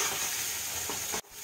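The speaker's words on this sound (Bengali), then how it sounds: "এবার এইগুলো দিয়ে ভালো করে আমি মশলাটাকে কষবো" Fennel paste and spices sautéing in oil with sugar in a pan, a steady close sizzle with stirring scrapes that cuts off abruptly near the end.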